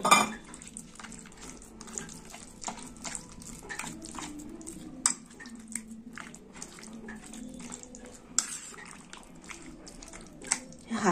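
Chicken pieces are mixed by hand with yogurt in a bowl, giving close, continuous wet squelching with clinks of utensils against the bowl.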